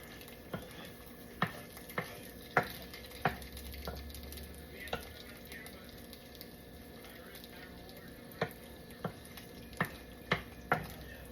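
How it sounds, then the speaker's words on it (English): Eggs frying and being scrambled in a pan on a stovetop burner for turkey fried rice, with a steady soft sizzle broken by regular sharp taps and scrapes of a utensil against the pan, heard alone. "just fry up a couple of eggs"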